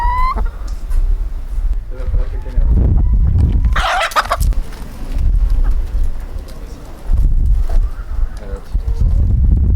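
Hens clucking outdoors among people chatting, a ginger hen and a black hen, with irregular clucks and bird calls scattered through steady background noise and voices.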